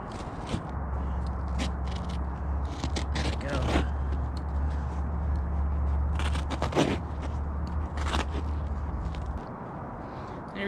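Carpet being cut by hand during a Toyota Sequoia overland build, giving a steady run of rough scraping and creaking strokes over a low hum for several seconds, with short louder bursts mixed in.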